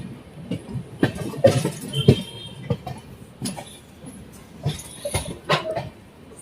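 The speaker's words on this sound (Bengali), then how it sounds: "সানটিং হচ্ছে এখন" Mahananda Express shunting at Siliguri Junction station: a mix of rumbling and clanking rail noise with scattered knocks and thumps and brief higher squeals, all at a moderate level with no voices.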